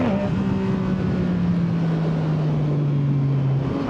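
Yamaha MT-09 motorcycle fitted with an Akrapovic exhaust, ridden in sport mode, giving a loud, steady engine drone close by, its pitch sliding slowly downward as the bike eases off, with no talk over it.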